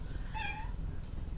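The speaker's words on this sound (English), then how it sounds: "What are you meowing for?" A house cat meows once, a short, clear mid-pitched call rising and falling over a steady low background hum.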